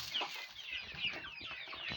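Young hens cluck and squabble noisily over feed on a small home farm, a dense, close and continuous chatter of high-pitched calls with no pauses.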